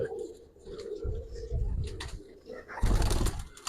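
Giribaz pigeons in a loft coo in low, throaty rolling calls that repeat in short clusters, close by, with a few wing flutters and people talking quietly in the background.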